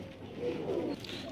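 A male Saleti Kamagar breeder pigeon in Lahore gives a soft, low coo lasting about half a second, faint and close, with no talking over it.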